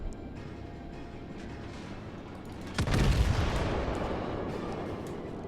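A single heavy naval gun salvo from an enemy warship in World of Warships erupts partway through, a deep loud boom that fades into a long rumbling tail over steady ambient game noise.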